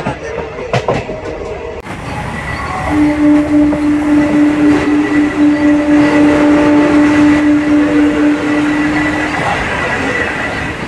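A MEMU express train pulls into Tada station from Gudur with a rumbling approach, rhythmic wheel clatter and a long sustained horn-like tone, while people talk nearby.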